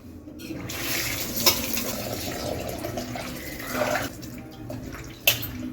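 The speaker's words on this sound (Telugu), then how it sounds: "రెండుసార్లు కడిగి వాటర్ మొత్తం వంపేయాలి" Water sloshes and splashes continuously in a bowl nearby as drumstick pieces are washed, with a few sharper clinks and swishes as they are stirred and rinsed.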